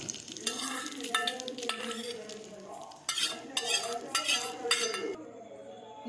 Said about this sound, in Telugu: పోపు అంతా పెరుగులో వేసుకున్నాం.